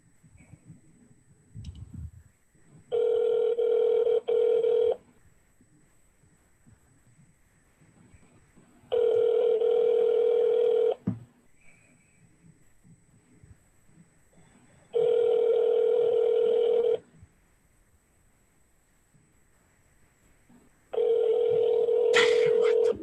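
A telephone call being placed: dialing followed by four evenly spaced ring tones, each about two seconds long with gaps of about three seconds, clear and prominent over a quiet background, with no talking.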